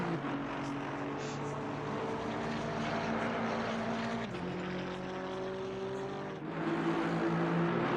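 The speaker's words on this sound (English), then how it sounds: "Whilst we can hear the cars going on" GT4 racing cars lapping Zolder circuit during practice, a steady distant engine drone with shifting tones as cars pass, continuous and fairly faint.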